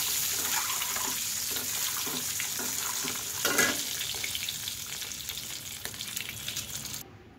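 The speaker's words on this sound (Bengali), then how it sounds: "ডিমটা এখন ভাজা হয়ে গেছে," An egg frying in hot oil in a pan gives a steady, close sizzle with crackling and spatters, and one brief louder burst partway through before it suddenly cuts off.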